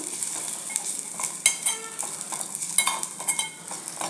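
Dry coconut and onion roasting in a pan for a soybean masala curry, heard as soft sizzling with intermittent scraping and stirring strokes of a utensil against the pan, close and fairly quiet, with no talk.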